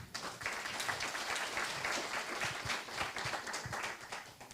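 Audience applauds after a talk on sales pitches, a soft, distant, sustained patter of many hands clapping with no speech over it.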